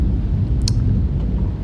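A dense, steady low rumble of storm thunder with rain fills a video game scene on the way to a lighthouse, loud and continuous throughout, with a brief brighter crackle near the middle.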